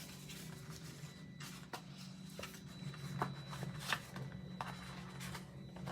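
A paper card is folded in half, giving soft, faint crinkles and a few sharp creasing snaps scattered over a quiet background.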